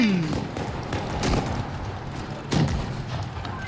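Tank cannon shots in the World of Tanks video game come as a couple of heavy booms with muffled rumble, moderately loud against the game's background noise, with a voice talking over them.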